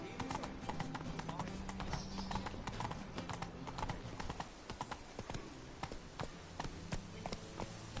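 In The Witcher 3 video game, a horse's hooves clip-clop in a brisk, regular gait, sharp and close, with game characters' voices talking quietly alongside.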